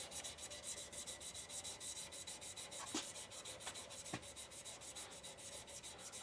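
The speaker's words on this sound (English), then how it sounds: "I'm going to hand sand this" Quiet, steady rubbing strokes of hand sanding on a wooden shaving brush handle to remove scratch marks, a regular back-and-forth rhythm with a couple of faint clicks.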